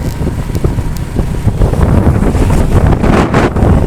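Heavy wind buffeting the microphone while riding a motorcycle through rain, a loud, steady roar with gusty swells and occasional bumps, no voices.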